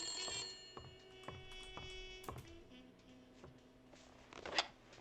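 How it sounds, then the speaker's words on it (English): An old-fashioned telephone bell rings in repeated bursts inside the Blacksad video game, with clicks and clattering between the rings and a brighter jangle near the end. "Let's answer this phone"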